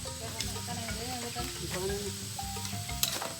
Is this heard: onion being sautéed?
yes